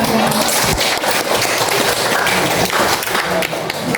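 A classroom of high school students clap their hands together, a dense, steady patter of many hands filling the room without pause, close and fairly loud, with no talking over it.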